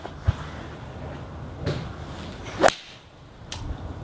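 A Callaway Steelhead XR iron strikes a golf ball in one sharp, close crack, with a few fainter thuds and rustles before and after it.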